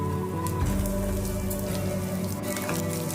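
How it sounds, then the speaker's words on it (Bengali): Chopped coconut fries in about a tablespoon of oil in a pan, giving a steady, close crackling sizzle like light rain that holds evenly for a few seconds. "একটা প্যানে আমি 1 টেবিল স্পুন মতো তেল দিয়ে কিছুটা নারকেল আগে কুচিয়ে রেখেছিলাম, সেটাও ভেজে নেব"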